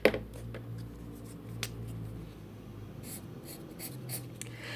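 Light scratching strokes of a pen or pencil coloring on paper, several soft close strokes in a quiet room.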